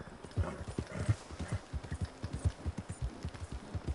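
Rhythmic hoofbeats of a horse in the video game Red Dead Redemption 2 clip-clop steadily at a trotting pace, moderately loud, with no voices over them.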